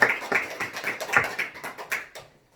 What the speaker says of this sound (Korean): 먼저 예배를 인도하신 하나님께 영광의 박수 올리겠습니다